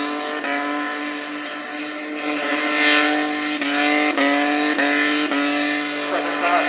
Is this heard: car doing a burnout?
yes